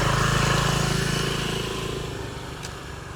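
A motorbike passes close by on a narrow path in Bali, its engine loud at first and steadily fading as it moves away, with no talking.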